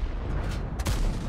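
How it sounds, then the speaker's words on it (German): A tank cannon firing in the World of Tanks video game, a single sharp blast about two-thirds through, over steady background game noise and rumble. "Und da findet auch der Schuss seinen Weg ins Ziel."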